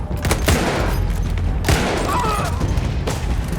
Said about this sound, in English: So I'm not sure if I like this gun.